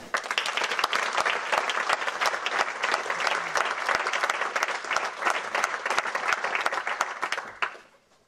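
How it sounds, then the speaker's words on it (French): Lively audience applause at a business leaders' gathering, loud sharp claps in a fast irregular rhythm sustained for several seconds before tapering off abruptly at the end. "d'applaudir El Kabir Pen."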